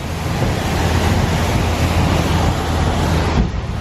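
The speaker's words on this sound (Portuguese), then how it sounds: "E olha a cachoeira incrível que tem aqui, que bonita." A waterfall in Costa Rica roars with loud, continuous rushing water, a dense broadband wash close by that holds steady before easing slightly at the end, with no talking.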